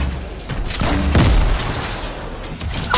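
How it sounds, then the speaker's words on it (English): Explosion in a multiplayer video game: a loud booming blast around the one-second mark, followed by scattered gunfire-like thumps, with no talk over it. "It was the explosion that knocked you down."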